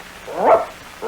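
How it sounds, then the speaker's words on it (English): A single dog bark, close and fairly loud, rising and falling in about half a second, followed by a fainter trailing sound, within a children's storybook recording. "That sounds like a dog."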